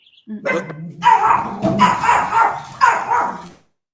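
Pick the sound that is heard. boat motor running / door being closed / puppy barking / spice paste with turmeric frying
puppy barking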